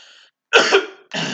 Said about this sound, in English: Sorry about coughing a lot